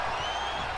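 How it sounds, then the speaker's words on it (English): Crowd cheering at a wrestling event in Tokyo, a dense, steady roar of many voices and applause heard from within the arena. "this crowd is just getting louder and louder and louder"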